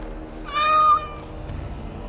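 A cat in the fantasy role-playing game Dragon Age: Origins Awakening gives a single clear, rising meow at close range, standing alone over a quiet background hum.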